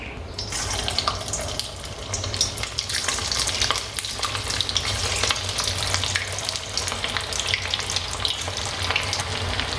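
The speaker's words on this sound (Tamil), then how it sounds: "இப்போ இது வறுபடட்டும். உடனே கரண்டி போடாதீங்க." Elephant foot yam balls frying in hot oil, a loud, continuous close-up sizzle and crackle of bubbling oil that holds steady throughout without talk.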